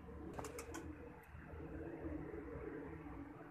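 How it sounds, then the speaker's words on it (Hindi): Soft, low cooing from a golden breeder pigeon, steady and close, with a few faint higher chirps early on and no talking. "आए आपको पूरा कबूतर दिखाते हैं।"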